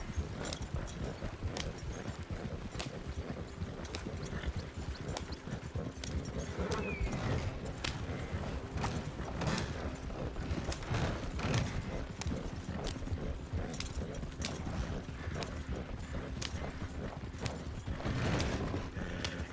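Horse hooves clip-clop steadily in the video game Red Dead Redemption 2, a continuous rhythmic patter of hoofbeats with faint creaks and tack rattles underneath, close and even throughout.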